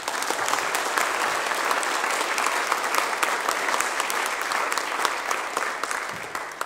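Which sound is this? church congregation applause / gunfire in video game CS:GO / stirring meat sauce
church congregation applause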